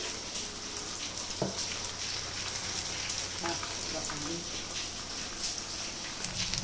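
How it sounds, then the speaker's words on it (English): Steady rain falls outside a kitchen where sabudana vada are being fried, a dense, even hiss of drops lasting throughout, with occasional faint clatter and brief voices in the background. "it is raining outside"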